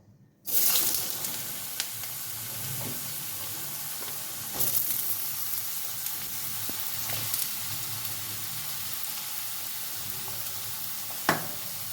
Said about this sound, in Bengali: এবার আলুগুলো একটু ভালো করে ভেজে নেবো আমি